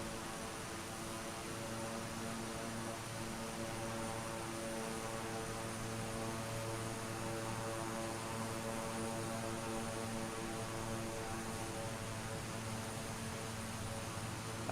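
Simulated Beechcraft King Air 350 turboprop engines drone steadily in flight within a flight simulator game, a constant tonal hum with a whining upper pitch and airy hiss, even and unbroken throughout, with no talking.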